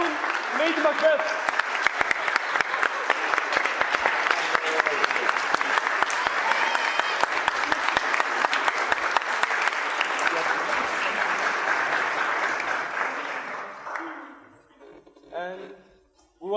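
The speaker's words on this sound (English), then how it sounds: "And a special applause for Owen Hamlet and Macbeth." A parents' evening crowd claps for the cast of a Shakespeare school play, a long sustained round of applause that thins out and stops, followed by someone speaking briefly.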